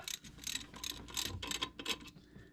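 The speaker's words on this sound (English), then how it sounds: "I'm going to take a wrench, and I know number 1 is right here." Rapid ratcheting clicks from a wrench tightening bolts on a Duster 360 engine, bursts of quick mechanical ticking close by with short pauses between strokes.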